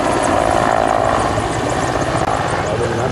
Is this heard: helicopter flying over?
yes